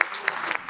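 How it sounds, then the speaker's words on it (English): A conference audience breaks into a short, dense round of applause with sharp overlapping claps, close and fairly loud. "Can we give them a round of applause?"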